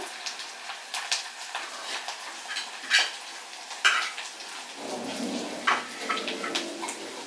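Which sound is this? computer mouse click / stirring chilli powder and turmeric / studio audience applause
stirring chilli powder and turmeric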